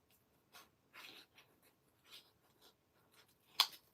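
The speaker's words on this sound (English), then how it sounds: "actually, I think I want to cut this leaf off" Soft, quiet paper snips and scrapes as a paper leaf is cut off a handmade flower card, a few brief bursts spaced apart, then one sharper click near the end.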